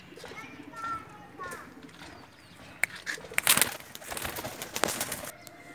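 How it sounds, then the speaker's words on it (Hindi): Pakistani pigeons, including a dub female and an Angrez male, coo softly amid a busy outdoor scene, with wing flaps, clattering and children's voices in the background. "डब वाली मादी और अंग्रेज़ कबूतर है"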